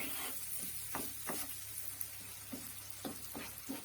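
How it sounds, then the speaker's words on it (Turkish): Semolina roasting in a pan for pekmez and walnut semolina halva, a steady soft sizzle with light scraping stirs at a slow, irregular rhythm, close and fairly quiet. "İlk aşamada irmiği kavuruyoruz"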